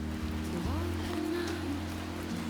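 Steady rain falls in Jincheon in the countryside, a continuous dense patter on surfaces with low rumbling noise beneath, no speech.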